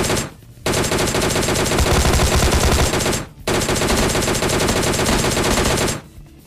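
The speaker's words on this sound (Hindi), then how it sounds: "मस्त गन शॉट की आवाज आई थी" Sustained automatic gunfire from the battle royale game PUBG, loud and dense rapid bursts filling most of the clip with two brief pauses between long volleys.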